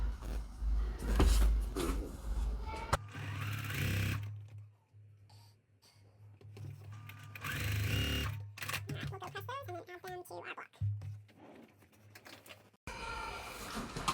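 A sewing machine runs in short bursts, stitching quilt block pieces for a Pieceful Basket block right sides together, with pauses and fabric handling between the runs.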